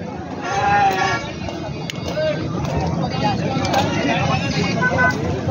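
Goats bleat repeatedly at a busy outdoor goat market in Vasmat, India, mixed with crowd murmur and people talking nearby.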